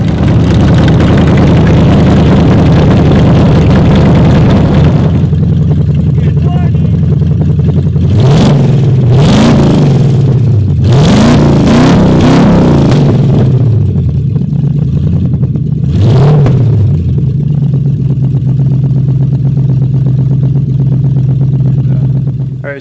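A project truck's engine idles loudly and roughly after a cold start, then is revved in several sharp bursts over the steady drone, recorded close with no speech.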